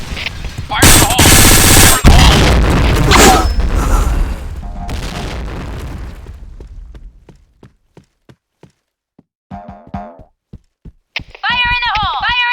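Grenade explosions and automatic gunfire in the video game Point Blank, a loud booming blast with sustained rattling fire in the first seconds that decays away, followed by sparse clicks and brief synthetic game sound effects.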